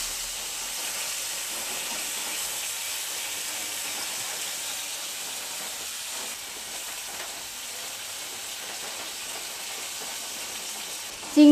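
Prawns fry in a wok with an even, hissing sizzle that holds steady throughout, close by and without talk.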